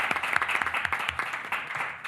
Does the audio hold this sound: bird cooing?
no